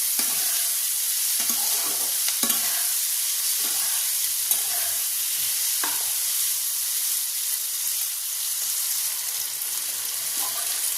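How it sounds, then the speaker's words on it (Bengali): Chopped onions, tomato and green chili frying in a pan for chicken liver curry, with a loud, continuous close sizzle and a few scraping stirs early on, and no voices. "1 মিনিটের মতো একটু নাড়াচাড়া করবো যাতে পেঁয়াজগুলো একটু নরম হয়ে যায়।"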